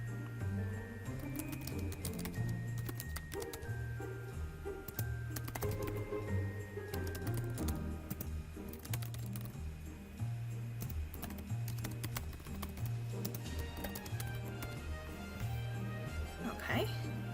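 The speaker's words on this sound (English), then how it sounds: "So I'm just going to start typing this message out" Soft typing on a computer keyboard while composing a message for a Cricut Christmas card. Quick, irregular key clicks sit over a quiet, repeating background rhythm and stay faint and close throughout.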